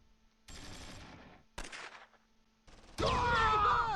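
Gunfire in the war strategy game Close Combat III, with bursts of shots in separate spells and a dense, loud volley at the end.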